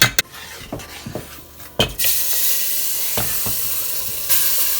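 Gumbo roux sizzling in a pot as bouillon goes in, a few sharp knocks and scrapes of utensils first, then the frying hiss swells into a loud, steady sizzle that flares again near the end, no voices.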